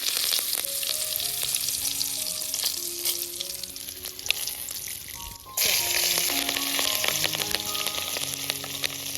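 Cumin seeds, salt and curry leaves frying in hot oil for patra, a dense steady sizzle that jumps louder about halfway through as more goes into the pan, with faint tonal sounds from a background cooking show.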